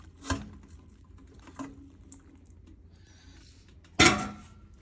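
Macaroni going into cheese sauce in a pan, heard as a few separate clinks and scrapes of utensil on cookware, the loudest near the end, with quiet gaps between them and no talking.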